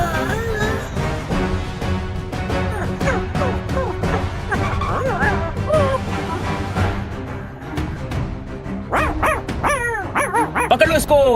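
A cartoon dog in a Hindi children's animated series barks, yips and whimpers repeatedly, loud and close, mixed with excited cartoon voices and busy background sound throughout.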